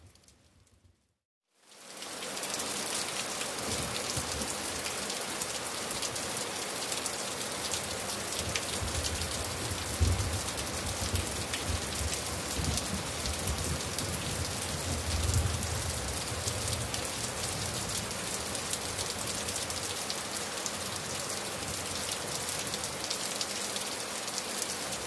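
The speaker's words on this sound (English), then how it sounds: "enjoy the relaxing sound of some beautiful rain" Steady rain falls continuously on a surface with a dense, even hiss of drops. It starts after a brief silence and holds at a soft, constant level for the rest of the clip, with no voices.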